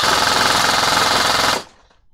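An airsoft gun fitted with a budget T238 28K brushless motor fires full-auto in one loud, rapid, close burst of about a second and a half, then cuts off sharply.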